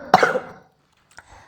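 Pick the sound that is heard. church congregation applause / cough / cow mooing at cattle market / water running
cough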